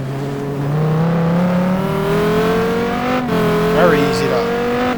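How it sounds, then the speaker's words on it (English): A GT2 race car at Zolder braking hard into a hairpin, its engine note falling in rising and dropping harmonics with a brief tire squeal, loud and close, while someone talks over it. "Very heavy braking, hairpin."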